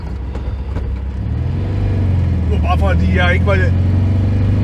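A 1975 VW 1200 Beetle engine rumbles and strains after being shifted into third gear instead of second, a low knocking drone that grows louder and steadier, with someone speaking over it.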